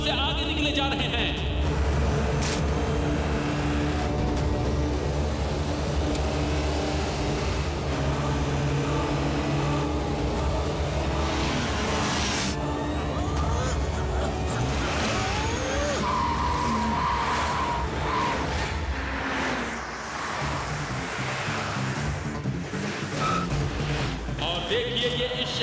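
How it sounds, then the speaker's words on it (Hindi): Cartoon race cars roar past one another while overtaking, tires skidding and squealing loudly throughout, with engine drone and music layered over a constant, busy mix. "इस तरह ओवरटेक करते हुए वो गाड़ियों से आगे निकले जा रहे हैं।"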